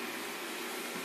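A Xiaomi robot vacuum cleaner running as it returns to its docking port, a steady whooshing motor whir heard alone at moderate level.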